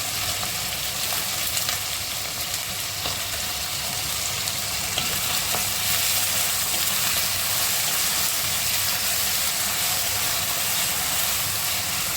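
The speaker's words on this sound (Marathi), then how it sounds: "बटाटे चांगले आपल्याला फ्राय ते तुपामध्ये फ्राय करून घ्यायचे आहेत" Thin slivers of potato fry in ghee in a pan for sabudana khichdi, giving a steady, even sizzle and hiss that runs on unbroken.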